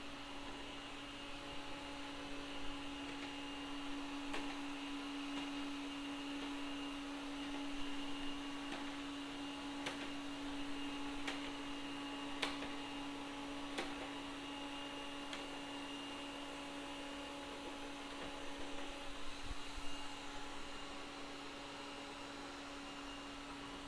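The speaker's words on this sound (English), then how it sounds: "Now you can see the vacuum tackling another obstacle right here." A Thamtu G11 robot vacuum cleaner runs steadily across a floor and onto a rug, giving a constant mid-level motor whine with a steady tonal hum and occasional faint clicks as it navigates around shoes and corners, with no talk.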